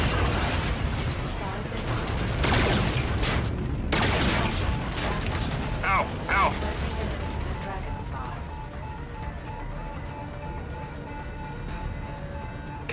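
Several sharp pulse-cannon blasts from Call of Duty: Infinite Warfare burst in quick succession, then fade into a mechanical hum, with a voice talking over the action.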